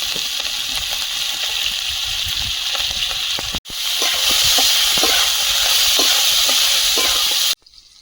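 Meat sizzling in hot oil with crushed garlic and chopped onion, a loud steady frying hiss with crackling that breaks off briefly, then resumes strongly before cutting out near the end.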